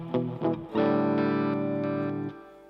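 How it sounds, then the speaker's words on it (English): Electric guitar played through a Roland Space Echo tape echo, a few picked notes then a sustained ringing chord with echo repeats trailing off, fairly loud and alone. "Now the space echo."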